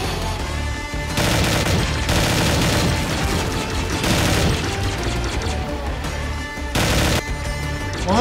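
An M60 machine gun in Garry's Mod fires in several long, loud bursts of rapid gunfire, each separated by brief pauses, with no voices over it.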